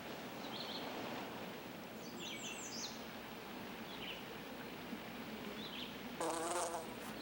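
Wasps and other insects drone steadily around sap-oozing sapsucker holes on an alder tree outdoors, a faint continuous buzz with a few brief bird chirps and a louder passing buzz near the end.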